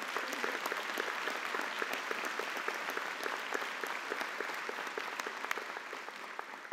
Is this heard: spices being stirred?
no